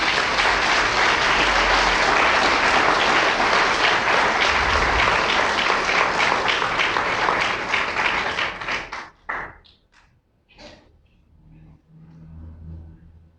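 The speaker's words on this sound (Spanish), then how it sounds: "¿Por qué no le damos un aplauso al Señor?" Loud, dense applause from a church congregation during a Spanish-language sermon, holding steady for about nine seconds before breaking into a few scattered claps and fading to quiet.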